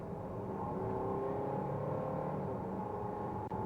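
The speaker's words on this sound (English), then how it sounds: "it's a lot of noise coming through from the engine" A 2017 Volvo XC90 2.0 D5 diesel engine droning steadily as the SUV accelerates uphill, a continuous low hum heard from inside the cabin with no talk.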